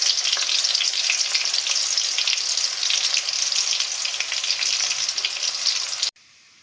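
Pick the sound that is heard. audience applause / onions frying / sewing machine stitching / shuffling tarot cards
onions frying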